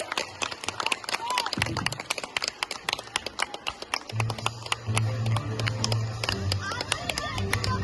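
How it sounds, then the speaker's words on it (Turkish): An audience at a primary school graduation ceremony claps steadily to welcome a class, with dense, sharp applause throughout and voices and crowd murmur underneath. "Alkışlarla karşılayalım GT sınıfını."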